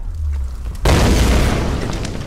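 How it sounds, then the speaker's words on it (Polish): A sudden loud boom erupts in Tomb Raider: Definitive Edition inside a burning palace, a single blast that cuts in sharply and then rumbles on as a sustained roar. "Kurde, coś wybucha."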